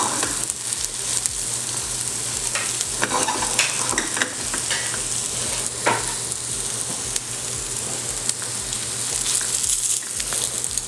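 A carrot burger fries in ghee in a pan, giving a steady, close sizzle throughout with occasional scraping stirs and clicks, and no talking.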